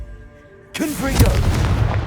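A Confringo fire spell explodes in Hogwarts Legacy, landing as a sudden loud blast after quiet, then a sustained rumbling, crackling burn with a brief whooshing tail, all close and heavy.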